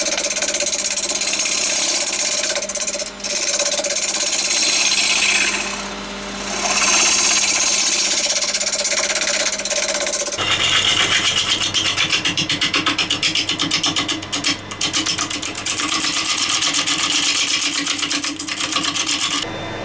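A wood lathe turns a bowl while a tool cuts across the wood to true the face and hollow the middle. It makes a loud, continuous whirring hiss, and its tone shifts partway through.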